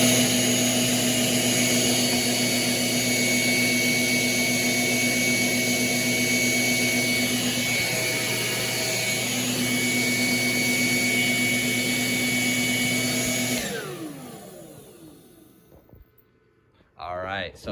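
A leaf blower on its highest setting, powered by an Anker F1200 power station, whines loud and steady with a constant high-pitched motor tone, then shuts down and spins out near the end.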